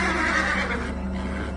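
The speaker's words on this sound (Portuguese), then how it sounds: "Olhei e vi um cavalo amarelo." A horse lets out a loud, close neigh that shakes and then fades out over a low rumbling musical backdrop, with no talking.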